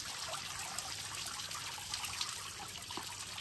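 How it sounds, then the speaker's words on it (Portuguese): Hot water from an outdoor shower in open nature running steadily, a continuous close hiss of falling and splashing water with no pauses. "E vambora, vamos tomar banho."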